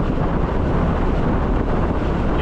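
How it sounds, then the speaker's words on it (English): Strong wind on San Andrés Island in the Caribbean, a loud, constant roar buffeting the microphone with no letup and no voices. "it's really windy now"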